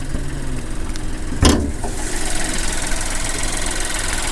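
A 2020 Buick Encore GX's 1.2-liter engine idles close by with a steady low rumble, broken once by a brief thump and rattle.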